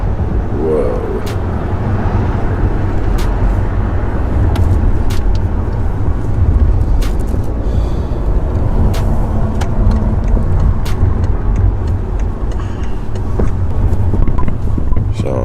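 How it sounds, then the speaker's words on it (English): Road traffic in Los Angeles: a continuous, loud roadway rumble of passing cars and engines, with occasional sharper knocks and hiss throughout. "Welcome to this traffic in LA."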